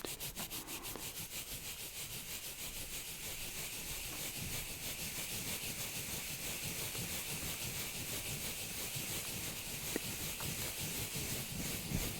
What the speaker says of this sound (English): you can scrub the mic if you want to